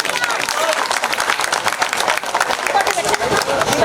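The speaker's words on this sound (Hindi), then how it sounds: "जोरदार ताली होनी चाहिए" A crowd at a political gathering in the Shahdara constituency claps hard and steadily, a dense continuous applause from start to finish with no pause.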